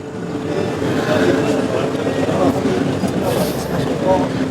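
A tram approaching along a street in Istanbul, a steady rail rumble building in the background amid city noise, with someone talking throughout.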